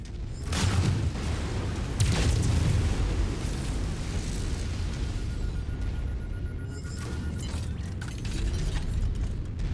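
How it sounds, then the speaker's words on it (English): A mech blowing apart in MechWarrior 5: a loud, deep, rumbling blast that keeps roaring with debris and crackle through the whole span, with a few sharper bursts early on. "Too bad that mech is going to explode."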